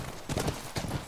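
Horse hooves clip-clop steadily in the video game The Last of Us, a rhythmic run of close, moderately loud hoofbeats over a busy background.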